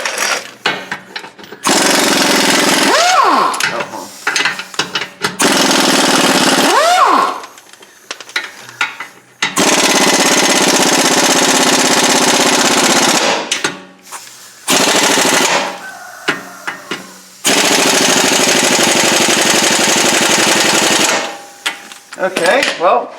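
Pneumatic impact gun hammering at the front strut bolts of a 2007-2011 Toyota Camry, loud rapid rattling bursts of several seconds each separated by short gaps, close up and alone.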